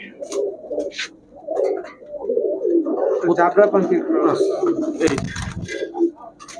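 Highflyer Giribaz pigeons coo softly in low, rolling bursts at a pigeon shop, with someone talking over them nearby.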